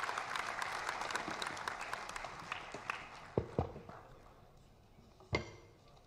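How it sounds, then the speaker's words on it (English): Audience applause for Union Home Affairs Minister Amit Shah at a conference in Gujarat: a dense, fairly quiet patter of clapping that thins out over several seconds, with a few sharp knocks near the end. "Please join me in giving a huge round of applause to the Honorable Union Minister of Home Affairs and Minister of Cooperation, Mananiya Shri Amit Bhai Shah"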